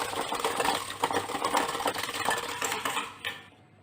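Sugar and curd being mixed in a bowl, a busy rhythmic scraping and clinking of a utensil against the bowl that continues briskly and then stops abruptly near the end.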